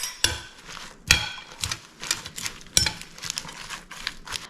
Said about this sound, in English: So you're just going to keep tossing it until you think you've got enough dressing to coat everything evenly